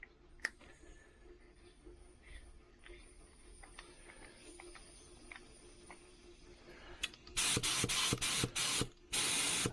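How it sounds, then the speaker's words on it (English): A budget HVLP paint sprayer running at 30 psi gives off a loud, steady hiss in several close bursts near the end, each broken by short gaps, after quieter clicks and handling noise. "so that's spraying at 30 psi"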